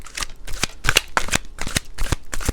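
Tarot cards shuffled and drawn from a deck, a rapid string of crisp, close slapping riffles in quick rhythm, clear and alone with no voices.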